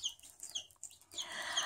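Ailing baby chick chirping, a few short high peeps close by, then a rougher, noisier burst of sound at the end.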